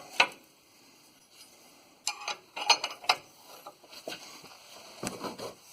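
Wrench tightening a nut on the upper control arm or ball joint of a 2008 Ford F-150, heard as a few separate metallic ratcheting clicks and clanks in short bursts, close by in a quiet shop.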